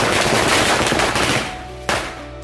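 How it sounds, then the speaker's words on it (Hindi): A string of mirchi bomb firecrackers bursts in a rapid, loud crackling run, like machine-gun fire, then ends with one final sharp bang. "अब इसमें माचिस लगाते ही बस पटापट फूटने लगता है।"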